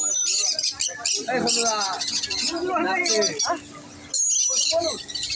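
Cockatiels call with shrill chirps and squawks at a Sunday bird fair in Shrirampur, several birds close together, while people talk nearby.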